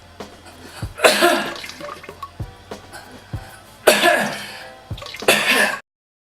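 Fake coughs in a public washroom toilet stall: three loud, rough bursts spaced a few seconds apart, with faint quieter knocks and small sounds in between.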